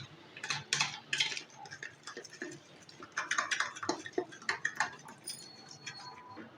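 Chicken tikka masala spices being mixed in a bowl, with a string of light clinks and scrapes from the utensil against the bowl, close by and irregular, with no talking.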